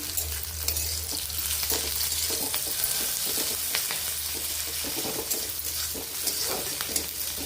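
Leafy greens fry in mustard oil in a clay pot with a continuous crackling sizzle, broken by irregular scrapes and knocks of stirring and a low hum underneath. No one speaks.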